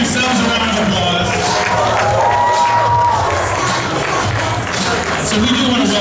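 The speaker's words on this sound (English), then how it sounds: "Give yourselves a round of applause" An audience at a convention opening ceremony applauding and cheering, a dense sustained wash of clapping and shouts from a large crowd, with a voice speaking over it.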